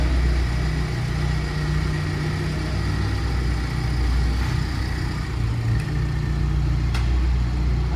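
A Ford Bronco on a test drive after an aluminum sway bar arm install, a steady low engine drone with road rumble, constant and fairly loud, with no talking.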